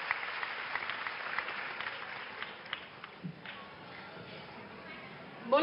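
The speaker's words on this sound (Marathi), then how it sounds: "या सगळ्या महिलांचं जोरदार टाळ्या वाजवून आपण अभिनंदन करू." An audience at a political rally in Mumbai breaks into applause. Dense clapping mixes with crowd voices, swells and then thins out after a few seconds, leaving a murmur with some louder sounds at the end.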